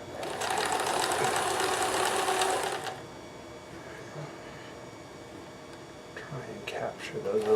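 A Kenmore 158.1914 sewing machine with an overcast foot stitches along a cardigan sleeve, its fast steady buzz running loud and close for about three seconds before stopping, followed by quiet handling noises.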